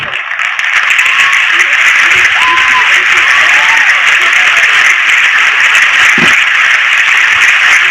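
A large crowd applauds loudly and continuously, a dense wash of clapping with a few faint voices in the background.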